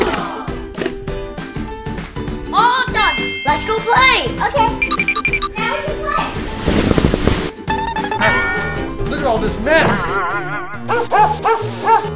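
A boy dog racing around with the zoomies in a busy family kitchen, giving repeated barks and yips over constant children's chatter, light jingling and background music.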